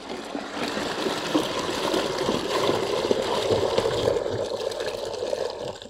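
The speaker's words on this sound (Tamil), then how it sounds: "இப்போ இந்த குடத்துலேருந்து 18 லிட்டர்ஸ் தண்ணி இதில் மிக்ஸ் பண்ணுறோம்." Water is poured from a pot into a 20-litre bucket while preparing jeevamirtham with cow dung and cow urine. The pour is a steady, close gush and gurgle lasting several seconds, tapering off at the end.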